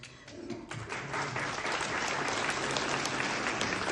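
Veterans at a forum in Kyiv applaud in a dense, steady round of clapping that swells after a quiet start and holds full and even, with little talk over it.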